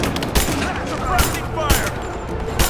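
Gunfire in Rise of the Tomb Raider, several sharp shots spaced across the moment amid ongoing combat noise, with shouted voices in the mix.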